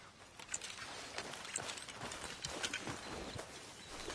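Horse hooves clip-clop in a steady walking rhythm within a PS4 video game, quiet and even over a soft background hiss with no speech.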